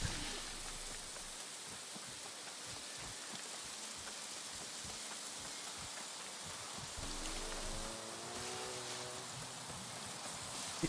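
Steady rain in the New World video game, a dense, even patter of raindrops on surfaces filling the whole stretch, with faint tonal game sounds surfacing midway.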